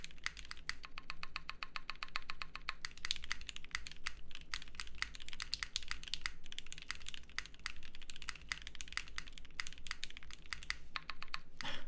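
Rapid, steady typing on a Vertex Angle prototype mechanical keyboard fitted with a silicone pad, the muted keystrokes clacking close-up in dense bursts with a low background hum.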